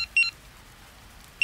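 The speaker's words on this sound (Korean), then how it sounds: "손에 들고 우리에게 보여주고 있던 삐삐가 다시 울렸습니다" A pager beeps in two short bursts of high electronic bleeps, one near the start and another at the end, separated by a quiet pause with faint low hum.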